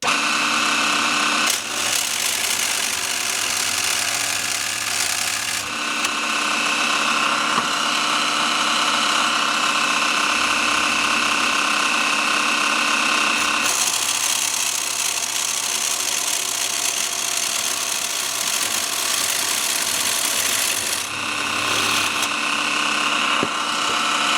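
A Dremel MS20 Moto Saw runs continuously while cutting a piece about 2 millimetres thick, giving a steady, buzzing mechanical whine with slight shifts in pitch as the blade meets the material, with no talking.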